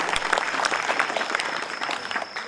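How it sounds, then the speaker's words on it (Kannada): Audience at a guru's purana recitation clapping in devotion, a loud dense burst of applause from many hands that holds steady throughout, with no voices over it. "ಭಕ್ತಿಯ ಚಪ್ಪಾಳೆಯನ್ನು ಸಮರ್ಪಣೆ ಮಾಡೋಣ."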